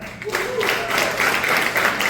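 A comedy club audience at a fundraiser show applauds in a bright, continuous burst of clapping that fills the room, with a voice speaking over it at the start.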